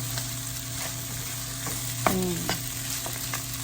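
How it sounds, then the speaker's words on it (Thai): Fried rice with mixed vegetables being stir-fried in a pan, a steady sizzle with a few scraping stirs of the spatula, close up and alone with no talk. "ผัดก็ผัดให้ทานกันนะคะ"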